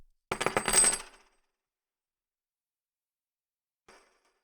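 A handful of silver coins clatter onto a table in a quick, bright jangle, followed by silence and one faint clink a few seconds later.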